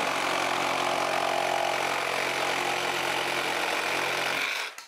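A Ryobi One+ HP 18V reciprocating saw cuts through bare wood with a steady, loud, rasping buzz that holds for several seconds before abruptly stopping at the end.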